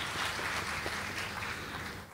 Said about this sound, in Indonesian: Kita berikan tepuk tangan yang paling meriah untuk Nahdlatul Ulama